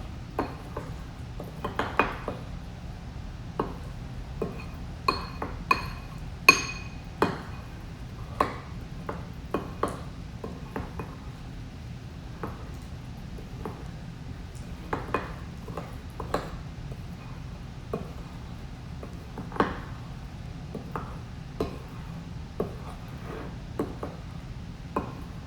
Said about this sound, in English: we're going to mix up all the ingredients